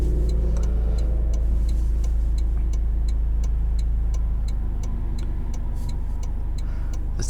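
Steady low engine drone from inside a 2023 Toyota GR Corolla Morizo Edition hot hatch with a manual gearbox, cruising under load with a constant rumble and faint regular ticking over the top, no voices.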